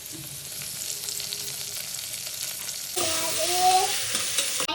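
Tomatoes are tipped into hot oil in a pan for veg pulao, where a quiet simmer jumps to a loud, bright sizzle that stays strong and close until the end.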